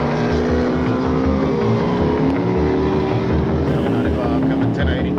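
A black sport motorcycle's exhaust roars loudly and steadily during a police chase, a continuous engine drone with shifting pitch filling the whole span.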